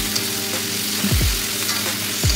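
Chicken sizzles and crackles steadily in a hot wok with garlic, with a few scraping stirs of a utensil breaking through the frying hiss.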